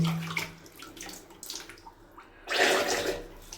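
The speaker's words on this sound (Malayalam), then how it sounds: "അപ്പോൾ കറക്റ്റ് വെള്ളം പോകുന്നുണ്ട്" Water running and draining through a freshly cleaned pipe, a close splashing gush with gurgles that fades briefly and then returns stronger and steady.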